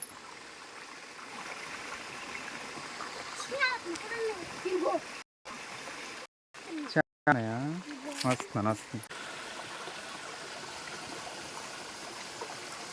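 Water flows steadily through a canal among hills, a constant soft rush heard outdoors under people talking, with brief dropouts midway.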